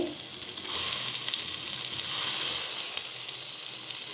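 Chopped tomato and vegetables sizzle in a hot pan for chicken vegetable soup, the crackling hiss swelling louder after a quieter first moment and holding steady.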